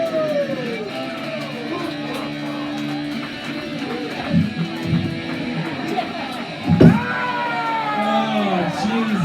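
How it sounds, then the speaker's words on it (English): Crowd at a live comedy show at Live @ 212 cheering and whooping, a steady roar of voices with shouts rising near the middle and a loud burst toward the end. "give a round of applause for fucking Satan"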